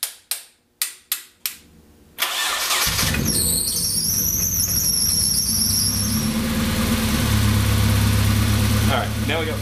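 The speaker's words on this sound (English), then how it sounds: "It's still in cold idle." A KA24DE four-cylinder car engine, running after a startup attempt on a freshly rebuilt project, settles into a loud, steady cold idle with a high squeal above it, preceded by several sharp clicks.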